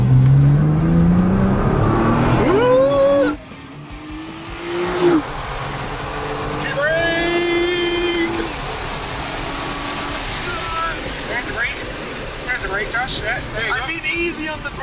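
A VW-engined car driven flat out around a track, its engine revving loudly up and down through gear changes close by, with someone talking over the noise.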